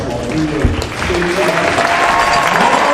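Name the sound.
applause in a gym for the state champion basketball team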